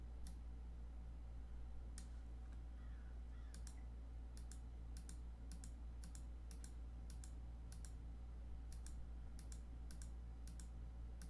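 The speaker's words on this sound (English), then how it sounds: "Lots of clicking, lots of clicking. Left click, you'll get a workout." Rapid bursts of computer mouse clicks while building a simple marble maze game on a computer, fairly faint, with irregular rhythm, some close together, over a steady low hum.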